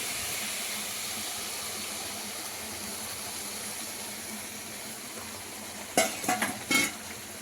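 Beetroot halwa being stirred in a pan after a cup of milk goes in, a low steady simmering hiss followed by a few sharp scrapes and clinks of a spoon against the pan near the end.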